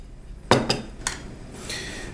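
A few sharp clinks and scrapes of a utensil against a bowl while pears, lemon, flour and sugar are mixed, three or four quick knocks close by, then a faint ringing scrape.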